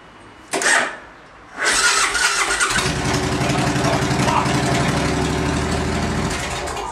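A Suzuki C90 motorcycle with a crankshaft position sensor fault and a history of not starting: a brief burst, then the starter turns over, the engine catches and settles into a steady idle.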